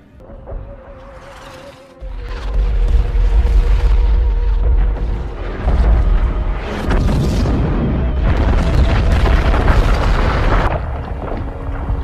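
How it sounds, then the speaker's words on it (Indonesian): Airstrike explosions in a war film about a Russian squad defending a building against incoming German troops, with deep, heavy booms and rumbling blasts building up loudly and continuing almost without a break after a quieter start. "It's an airstrike now."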